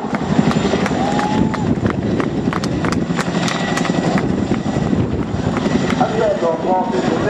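Large twin-rotor transport helicopter flying sideways along the crowd line at a seaside airshow, a steady loud rotor and engine roar sustained throughout, with crowd and commentary noise mixed underneath.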